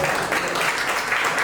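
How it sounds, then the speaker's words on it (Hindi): Enthusiastic applause at a press conference for a health camp, steady dense clapping from a crowd filling the room for the whole moment. "बहुत जोरदार तालियां"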